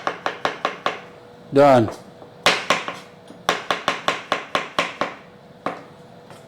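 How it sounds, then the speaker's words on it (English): A knife slices mushrooms on a chopping board in a series of crisp, evenly spaced chops, close and distinct. Faster bursts are broken by a short rustle, and a brief word is spoken near the end. "we want to slice the mushrooms"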